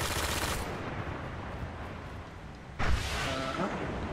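Rapid gunfire in a Destiny Crucible multiplayer match, a dense continuous crackle of shots with a sharper burst near the end.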